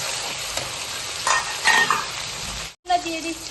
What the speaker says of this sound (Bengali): এবার আমরা দিয়ে দিচ্ছি হচ্ছে টমেটো আর রসুন দিয়ে আমরা আবারও ভালো করে পুরো বিষয়টা নাড়িয়ে নিচ্ছি।